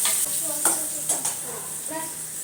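Tomatoes frying in hot oil tempering for pasta, stirred in a pan: a continuous sizzle broken by quick scraping strokes of a spoon against the metal, close by and without talk.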